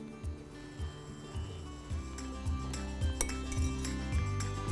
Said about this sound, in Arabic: راح أحطها أسكبها في صحن التقديم